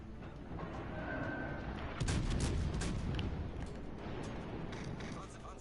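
Heavy naval cannon fire from American ships in a naval warfare game, a sharp boom followed by rumbling blast energy and lingering roar under steady background noise.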